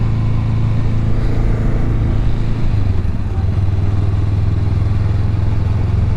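A motorcycle engine runs steadily and loudly close by while being ridden, a continuous mid-pitched drone with a slight dip partway through and no voices over it.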